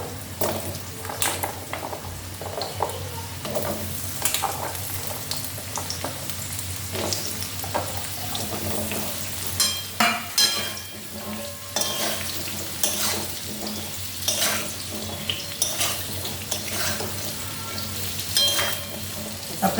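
Papaya pieces fry in a pan with ginger paste, a continuous close sizzle punctuated by repeated scraping strokes and light metallic knocks of the spoon against the pan, with no voice heard.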